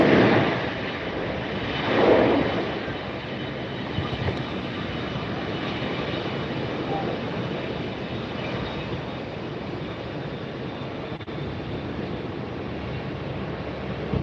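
American Airlines airliner at Tampa airport on a very windy day, a steady loud jet engine roar that swells near the start and then holds as a broad continuous rumble, with wind noise.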